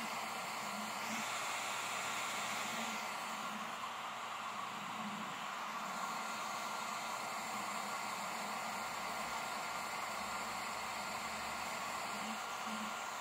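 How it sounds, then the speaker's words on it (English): A blow dryer runs steadily on a Cabbage Patch doll's head, a constant close-up whooshing hiss with a low motor hum lasting throughout, no voices. "let's try the blow dryer"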